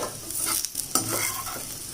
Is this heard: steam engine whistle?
no